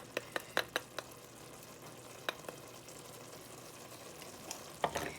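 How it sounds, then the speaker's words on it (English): A spoon or spatula stirs spaghetti sauce seasoned with thyme and chili powder in a pan, producing a quiet, low simmering sizzle marked by scattered sharp taps and clicks in short clusters. "Now we're gonna just mix it up nice and easy."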